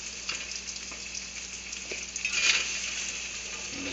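Eggs sizzling in a pan are pushed around with a spatula, a steady frying hiss with a few soft scrapes and taps close by, no voices.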